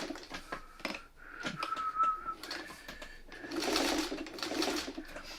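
A hand-cranked sewing machine stitching a New York Beauty quilt block, its needle clattering in an uneven, close rhythm with short pauses and a whirring stretch near the end, with no talking.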